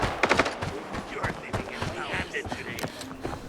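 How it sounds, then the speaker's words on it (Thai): Rapid bursts of video game gunfire from Arena Breakout crack and pop in quick, irregular succession, fairly close, with some faint background chatter mixed underneath. "มีเสียงปืนยิงอยู่นะ"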